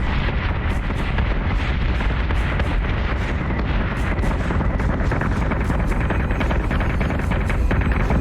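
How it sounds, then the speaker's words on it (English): A missile barrage from the Colonial fleet in a Battlestar Galactica space-combat video game sets off dense, continuous explosions: a loud, steady roar of booms and rapid blasts that overlap throughout with no pause. "Great Colonial fleet, our missile barrage"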